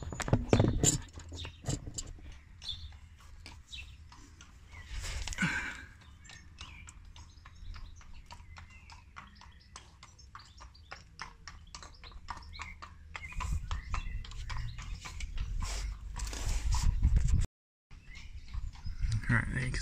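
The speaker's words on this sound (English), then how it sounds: "There's a horse coming by as well." A horse walks past in a street, hooves clip-clopping in a steady rhythm that grows louder then fades, with occasional nearby noise and a voice briefly heard.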